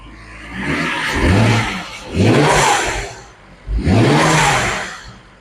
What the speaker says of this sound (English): Give it a couple ceremonial revs.